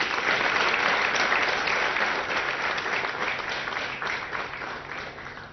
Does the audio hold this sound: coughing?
no